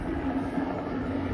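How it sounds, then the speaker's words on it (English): A helicopter flies overhead and circles back around, giving a steady, loud, droning rotor rumble with no breaks. "helicopter"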